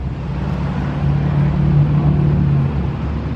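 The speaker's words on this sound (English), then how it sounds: "That's what all those like diesel trucks are sounding like." Diesel trucks drive past near a park, heard as a steady, loud low engine rumble that swells slightly in the middle, with no talking.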